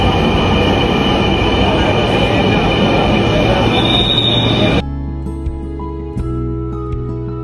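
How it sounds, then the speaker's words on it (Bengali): A Dhaka metro rail train pulls into TSC station, with a loud, dense roar and squealing wheels that cut off abruptly near the end, leaving a quieter steady hum as the train stands at the platform. "তারপরে ট্রেন চলে আসলো।"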